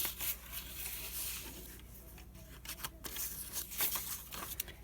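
Scissors snip through pieces of paper bag for a budget journal tag holder, giving faint, dry crisp cuts and rustles that come in short irregular bursts against a quiet room.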